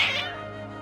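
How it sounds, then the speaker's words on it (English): A cat meows once in Genshin Impact, a short, bright, drawn-out cry that starts loud and sinks into a lower trailing tone, heard alone and up close. "My cat sound demonic."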